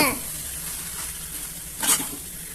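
Boiled Maggi noodles stirred in a hot pan make a close, steady sizzle, broken by scraping stirs near the start and again toward the end.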